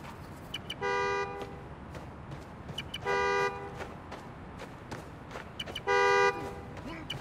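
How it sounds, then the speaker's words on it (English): A car horn in the video game Spider-Man Miles Morales sounds three times, each a loud, flat, sustained honk about a second long, spaced evenly apart over a low background hum. "Love a good horn."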